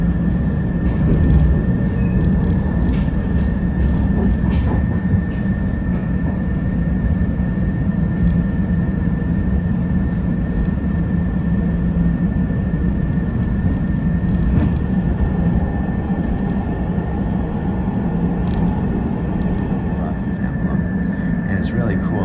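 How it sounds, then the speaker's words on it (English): Steady rumble of a train car interior heard from a seat on board a train heading to Peoria Station and downtown, a continuous low roar with a faint sustained tone above it and scattered small clicks and rattles throughout. "I made it on the train and I'm on my way."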